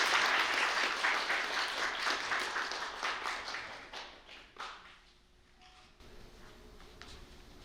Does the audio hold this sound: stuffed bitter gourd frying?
no